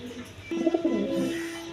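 A pair of red Gola pigeons kept with their chicks, giving a short, low, throaty coo close by, one warbling phrase rising out of faint background noise.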